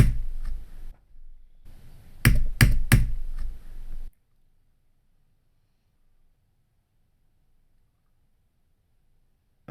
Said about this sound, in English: So I just need to type in the code.